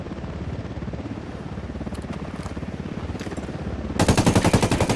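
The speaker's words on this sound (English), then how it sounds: "Chopper inbound." A helicopter arrives in Tom Clancy's Ghost Recon Wildlands, its rotor beating in a rapid, steady thump that grows suddenly louder and closer near the end.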